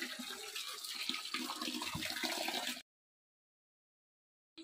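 Water runs steadily into a bottle with a dense, even rushing for under three seconds, then cuts off abruptly to silence.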